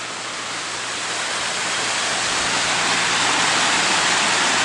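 A waterfall in Rabun County, Georgia, dropping roughly 40 to 50 feet, gives off a loud, constant rushing roar of falling water that fills the whole stretch without pause.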